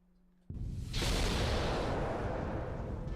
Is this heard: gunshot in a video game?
yes